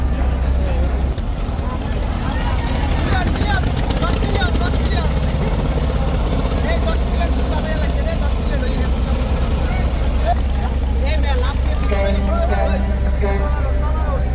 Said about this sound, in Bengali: চতুর্থ লঞ্চ এমভি মানামি ছেড়ে যাচ্ছে বরিশালের উদ্দেশ্যে যাত্রী নিয়ে।